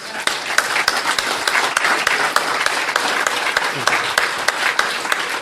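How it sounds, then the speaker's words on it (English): A room of people at a Queens NY recovery meeting applauds the speakers, a brisk burst of clapping with a few louder individual claps standing out. "Let's give a round of applause to the speakers."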